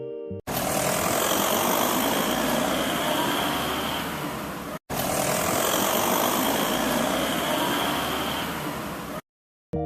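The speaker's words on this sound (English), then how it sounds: "Truck. Repeat after me." A truck engine runs at a steady loud rumble with a faint tonal whine, heard in two continuous stretches split by a brief cut, with no voices.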